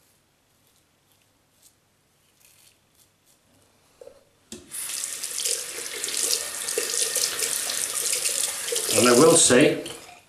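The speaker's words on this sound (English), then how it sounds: "with this soap, you do have to rinse your hands, because it will slip." Water streams from a tap as hands are rinsed of shaving soap at a sink. It is a steady, close gush that starts abruptly after a few quiet seconds of small handling sounds and a brief spoken phrase, then swells with splashing near the end.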